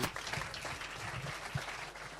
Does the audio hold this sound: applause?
yes